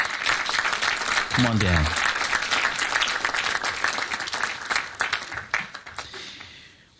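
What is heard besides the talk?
audience applause for the explorers at a city council meeting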